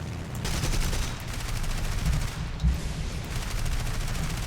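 Rattling bursts of machine-gun fire from an A7He1 plane strafing in the War Thunder combat game, loud and continuous over a roaring engine drone, with a few heavier thumps mixed in.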